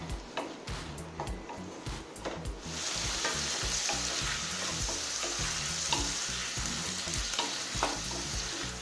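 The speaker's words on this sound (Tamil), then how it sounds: "தக்காளியை நல்லா வதக்கிக்கலாங்க. இந்த சட்னிக்கு தக்காளி நிறைய போடணும்." Tomatoes sauté in a pan for Tamil-style tomato chutney. A few spoon-stirring knocks come first, then a steady, close sizzle of frying.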